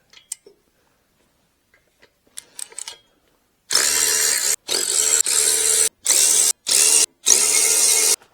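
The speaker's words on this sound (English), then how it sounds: "Go ahead and zip off our 6 nuts." A power tool zips nuts off an Allis Chalmers WD45 tractor during a head gasket job: after a few faint clicks, five loud close whirring bursts follow one another, separated by short pauses.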